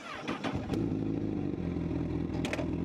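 A 2025 Honda Hornet 1000 motorcycle engine starts with a few clattering bursts, then settles into a steady, throaty idle close by.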